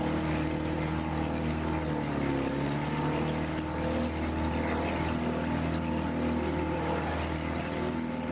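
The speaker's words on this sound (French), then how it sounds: "le moteur de Rémi fait des siennes." An outboard motor on a river in French Guiana drones steadily with a layered, slightly wavering hum, continuous and fairly close, with no talk over it.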